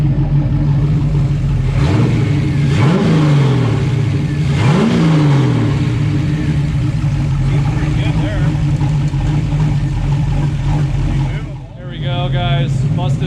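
A 1988 Ford Mustang under restoration idles loudly up close, its engine revving a couple of times early on before settling into a steady, rumbling run.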